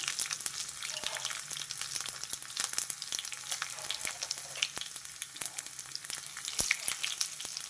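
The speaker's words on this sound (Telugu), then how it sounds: "అవి కూడా కొంచెం వేగిపోయినాయి" Crushed garlic cloves, cumin and mustard seeds frying in hot oil for a tempering, a steady close crackling sizzle with occasional sharp pops, no voices.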